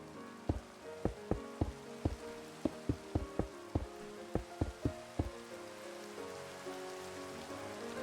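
Rain falls in a video game, heard as soft, steady patter beneath a series of sharp, distinct, evenly spaced hits that come in an irregular rhythm and then fade out, leaving only the quiet background wash.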